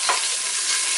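Beef sears in olive oil inside a pressure cooker for a bourguignon while being stirred, giving a steady, close hiss of frying with faint scraping from the stirring and no voices.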